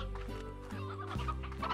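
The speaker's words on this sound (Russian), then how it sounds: "Надо покормить, значит, тогда всех слаймов. Так, возьмем курочек." Chickens cluck repeatedly in the ranching video game Slime Rancher, several short, close, rhythmic clucks over a steady background game ambience.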